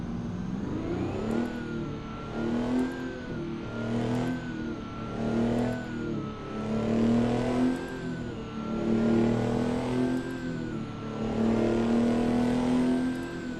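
A mid-pitched truck engine in American Truck Simulator drones steadily, rising and falling in repeated revving swells, with a faint whine riding above it and no voices.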